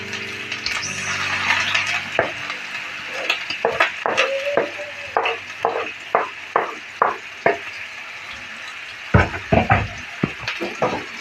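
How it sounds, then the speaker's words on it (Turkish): Onions frying in a pan for a regional sıkma filling hiss under a steady run of rhythmic utensil scrapes and clinks as they are stirred. The stirring strokes are close and regular. "Soğanımız bir kavrulsun."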